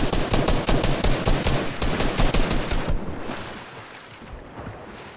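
Rapid bursts of video game gunfire crack in quick succession for about three seconds, loud and close, then fade into a quieter, sparse tail of distant shots and ambience.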